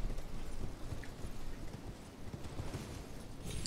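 Horse hooves clip-clopping in the video game Elden Ring, a quiet, fairly dense run of hoofbeats over low background rumble, with no talk.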